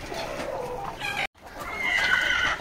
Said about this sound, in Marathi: ओरिजिनल गावठी अशा आपल्या कोंबड्या आहेत